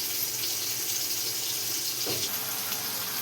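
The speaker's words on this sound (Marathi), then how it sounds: "आणि त्याला टाक मस्त असं धुवून घेऊया आपण बघा कांद्याची पात बघा." Chopped spring onion greens rinsed under a running kitchen tap, a close, steady hiss and splash of flowing water with no voices.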